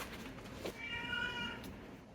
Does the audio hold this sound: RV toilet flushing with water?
no